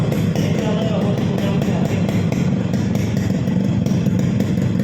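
A Yamaha RX 100 motorcycle engine runs at a steady, even beat, close and fairly loud throughout, with no talking over it.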